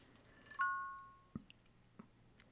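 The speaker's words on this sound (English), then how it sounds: "I heard a little chime here on the Apple Watch" An Apple Watch Series 8 gives a single soft, bright chime during setup and pairing with an iPhone, the tone ringing out and fading in a quiet room, followed by a few faint ticks and taps.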